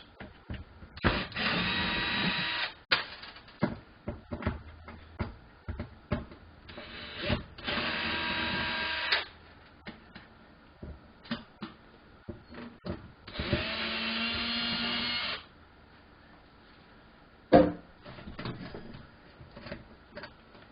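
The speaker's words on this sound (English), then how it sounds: "To remove the heating element, I'm going to take out these 3 screws." Screws being driven out of a Fisher Paykel OS302 oven heating element with a power screwdriver, in several bursts of whirring with clicks and handling knocks between them, close and fairly loud.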